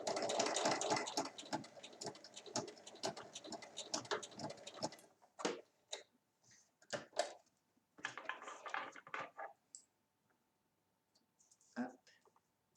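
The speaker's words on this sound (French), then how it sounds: "Je repasse 2 fois sur la piqûre en bas pour que ce soit bien solide." A sewing machine runs back over the bottom seam of a fabric chequebook holder, a dense burst of rapid stitching clicks for about five seconds, then scattered short clicks and handling noises at moderate volume.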